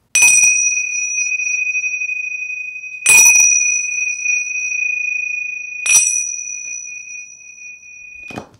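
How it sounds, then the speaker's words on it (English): Bells ring out as part of an energy-cleansing ritual, four separate strikes spaced about three seconds apart, each a bright metallic chime that hangs with a long sustained tone before fading, loud and close with no talk. "I'm just going to ring these bells and cleanse the energy."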